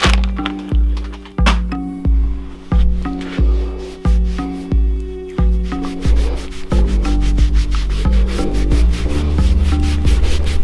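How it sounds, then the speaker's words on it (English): A pad scrubs wet makeup off bare arms in loud, close, rhythmic rubbing strokes that merge into a steady continuous scrub with no talk. "To watch me rub makeup off my arms."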